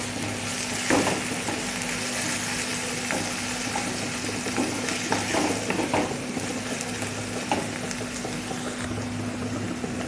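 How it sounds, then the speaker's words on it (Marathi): Onion and chopped tomato fry in a pan as they are stirred, producing a steady close sizzle with scraping stir strokes throughout and no talking. "मिक्स करून घ्यायचं आहे टोमॅटो."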